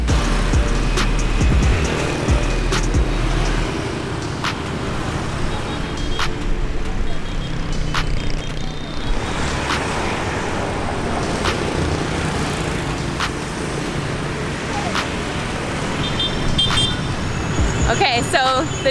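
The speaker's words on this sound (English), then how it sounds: "the traffic in Ho Chi Minh is crazy" Busy street traffic in Ho Chi Minh City, with motorbikes and cars droning and passing continuously nearby, occasional horn toots cutting through, while people talk over the noise.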